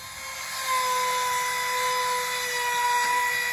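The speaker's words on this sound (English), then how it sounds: "I got a 90 degree angle attachment on my drill to screw in these blockings." A drill fitted with a 90-degree angle attachment driving a screw into sawmill lumber blocking for a deck, a steady high-pitched whirring whine held for a few seconds at close range.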